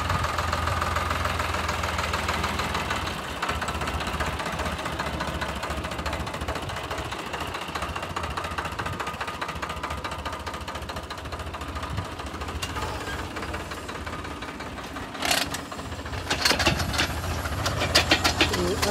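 A tractor engine idles steadily in a farm field where pits are being dug for tree planting, a low rumbling chug running throughout with a few sharper clanks near the end.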